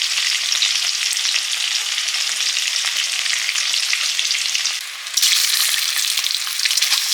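Steady, dense sizzling of potatoes frying in hot oil, loud and close, with a brief dip before the crackle surges again.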